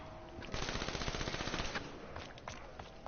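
Rapid automatic gunfire in the Black Ops 3 zombies video game: a dense, continuous burst of fast shots for about two seconds, then a few scattered shots, with no voices.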